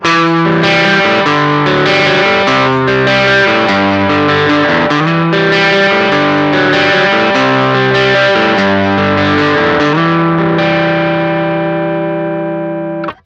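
An electric guitar plays a run of notes and chords through a Harby Pedals Noble Tone drive pedal in boost mode, giving a loud, mildly driven tone with light breakup that rings out at the end.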